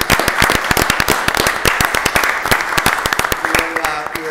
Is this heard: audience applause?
yes